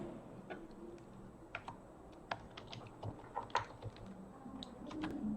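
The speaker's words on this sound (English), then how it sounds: "Inserting the text in MS Word is nothing but typing." Someone types on a computer keyboard while entering a sentence into MS Word, quiet irregular key clicks tapping in short bursts against a low room hum.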